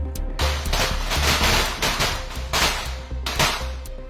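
Rapid sharp pistol shots crack out in quick succession at 25-metre standard pistol shooting, loud and close, with a few distinct bursts over a steady background rumble.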